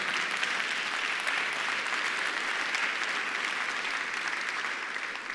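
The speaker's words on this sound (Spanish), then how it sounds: "Denle un aplauso fuerte al Señor" A church congregation claps steadily, a thick sustained wash of applause at moderate level that carries evenly for several seconds and tapers slightly at the end, with no speech over it.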